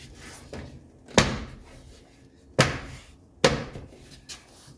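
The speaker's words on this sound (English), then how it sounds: "you can just bang your little clips in around the exterior of the door" Plastic trim clips being banged into the interior door panel of a 1982 Mercedes 300D, three sharp loud thumps spaced a second or so apart with softer knocks between, close by.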